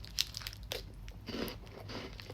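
Someone bites into a crunchy caramel-filled candy bar, producing a sharp close crunch followed by quieter crackling chews, with no one speaking.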